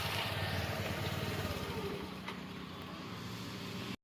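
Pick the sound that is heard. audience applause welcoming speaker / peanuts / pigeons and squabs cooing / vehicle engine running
vehicle engine running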